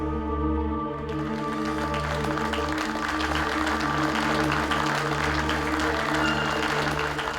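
Applause fills a royal court in a Tenali Raman television drama, a continuous patter of clapping over a steady low musical drone and tones that run through the whole scene.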